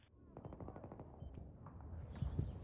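Rapid automatic fire from an M417 rifle in a first-person shooter team deathmatch, a steady burst of repeated cracks running through most of the stretch, with heavier thumps near the end and faint voice underneath.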